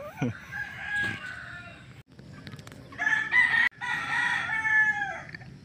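A wild red junglefowl (labuyo) rooster held in a cage crows loudly and close by, with two long cock-a-doodle-doo calls separated by brief pauses and a short squawk at the start.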